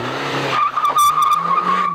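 Mazdaspeed Protégé fitted with European-spec disc brakes and anti-lock braking, stopping hard on large tyres: a loud, sustained tyre squeal with a pulsing chatter as the car sheds speed, the engine note dropping away beneath it.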